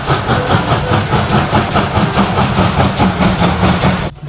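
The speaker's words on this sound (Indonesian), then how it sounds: "ini kereta api uap" A loud, steady rail rumble with a regular rhythmic clatter of wheels, a steam train rolling close by, cutting off abruptly at the end.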